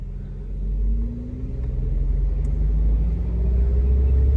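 An Infiniti G35 accelerating at a steady, loud engine drone, its rising tone marking gear shifts on the way up, heard close from inside the car with no talking.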